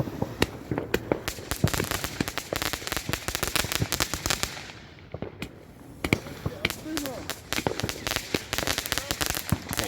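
Fireworks on bonfire night, with a dense stream of sharp crackling pops and bangs from a rocket display outdoors, briefly thinning mid-way before the rapid crackle resumes.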